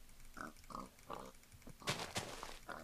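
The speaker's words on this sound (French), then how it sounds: "Viens là, mon petit cochon." A pig in a survival video game grunts and oinks in a short series of close snorts, with a couple of sharp hitting or impact sounds cutting in partway through.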